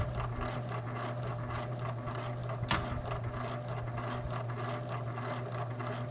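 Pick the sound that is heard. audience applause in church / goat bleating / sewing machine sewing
sewing machine sewing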